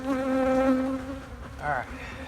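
Honey bees buzz loudly and close during a hive inspection, a sustained droning hum with a slight wavering pitch that eases off partway, then a brief louder rise as one flies near.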